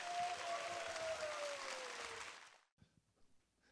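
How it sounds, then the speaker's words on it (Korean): Audience applause welcoming a psychology professor onto the stage before a lecture on happiness: a dense, steady wash of clapping from a large hall that holds for about two and a half seconds, then cuts off abruptly into near silence with faint room noise. "큰 박수 부탁드립니다."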